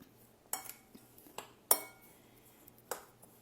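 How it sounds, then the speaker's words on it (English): A spoon scrapes and clinks against a bowl while unsweetened applesauce is mixed into oatmeal cookie batter, giving a handful of separate close taps and knocks spread out over a few seconds in a quiet room. "So I'm going to add some applesauce in there and simply mix it up."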